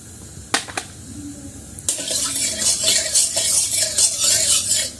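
Mustard oil poured into a hot wok gives a steady broadband hiss and sizzle from about two seconds on, after a few sharp clicks, close and fairly loud with no talking.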